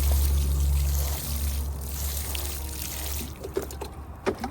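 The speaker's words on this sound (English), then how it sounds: "I'm gonna just water it real quick." Water pours steadily onto freshly planted ginger in a garden bed, a continuous close splashing flow that thins to trickles and a few drips near the end.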